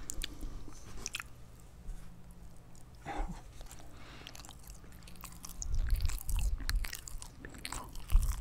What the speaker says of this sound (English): Come here so you can get some of this chewing action